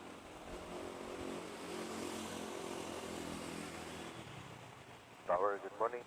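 A China Airlines airliner rumbles at Manila airport, a broad distant roar that swells and fades over several seconds before a voice speaks briefly at the end.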